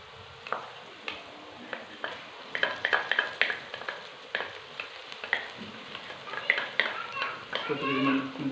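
Ginger and garlic frying with browned onions in a pan for a desi-style chicken karahi, giving a steady sizzle broken by repeated stirring scrapes, with a voice faintly in the background.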